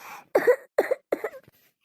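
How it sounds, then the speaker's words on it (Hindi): A woman coughs three times in quick succession, each a sharp, close burst with a short gap between, followed by a faint trailing breath. "बड़की दीदी तोरे खांसी बहुत आवा था"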